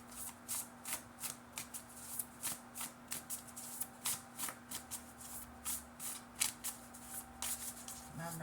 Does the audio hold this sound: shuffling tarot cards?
yes